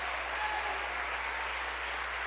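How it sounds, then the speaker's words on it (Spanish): A church congregation gives loud, sustained applause, a steady dense roar of clapping that lasts about two seconds with no pauses and no audible speech. "ese aplauso fuerte al Señor"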